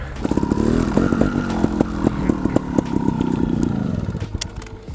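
A trial motorcycle engine runs nearby with a steady buzzing drone and rapid throttle blips, loud and close with clattering mechanical texture and no talk.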